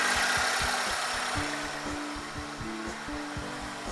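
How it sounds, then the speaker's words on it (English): The air-conditioning compressor of a 1999 Chevy Prizm (Toyota Corolla) runs with the engine, giving a steady mechanical hum with rhythmic pulsing and faint whirring tones, heard up close under the hood. "I have to make sure my compressor is running."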